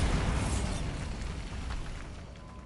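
A Bombarda blast spell goes off in Hogwarts Legacy with a loud, broad roaring boom that swells at once and then slowly rumbles away.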